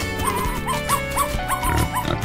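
Cartoon puppy barking in a series of short high yips and bow-wows, several quick barks in rhythm over a busy musical background.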